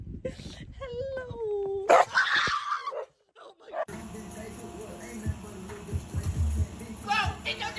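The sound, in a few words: dog whimpering and barking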